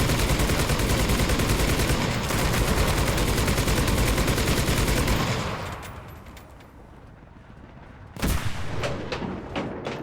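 Sustained rapid gunfire and explosions from a tank battle in a video game, dense and loud at first, thinning to a quieter stretch before a sharp close blast and renewed firing; no speech.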